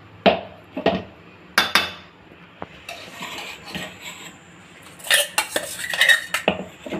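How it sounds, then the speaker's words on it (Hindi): Ground tomato chutney scooped out of a grinder jar into a kitchen utensil, with several sharp metallic spoon clinks and scrapes spread across the stretch and a busier cluster of clatter near the end. "अब इसको हम बर्तन में निकालेंगे।"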